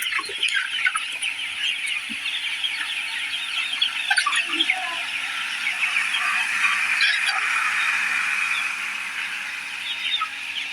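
Dense, continuous clucking and chattering from a large flock of 45-day-old Sonali chickens in a poultry farm shed, steady and fairly loud throughout with no talking.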